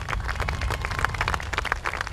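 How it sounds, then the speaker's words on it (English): Audience applause at a school kindergarten and 6th grade promotional ceremony: a steady patter of many hands clapping in a hall, moderately loud and continuous, with no talking over it. "Let's give him a big round of applause, Mr. O'Meara."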